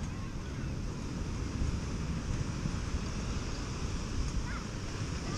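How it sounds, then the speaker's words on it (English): Angry surf at Nada Beach keeps up a steady, loud roar mixed with gusty wind buffeting the microphone, continuous with no clear breaks between waves. "Waves are still angry from all that wind."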